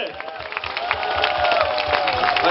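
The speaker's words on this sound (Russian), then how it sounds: "Аплодисменты!" A festival concert crowd claps steadily, with some cheering mixed into the dense applause.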